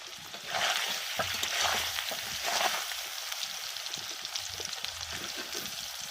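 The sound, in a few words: paneer frying in pan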